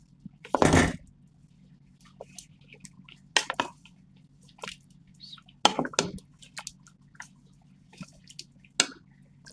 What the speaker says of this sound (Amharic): ትንሽ ውሃ ጠብ እያደረኩኝ በቅመሙን በደንብ አድርጌ አብራቸዋለሁ ማለት ነው ስጋውን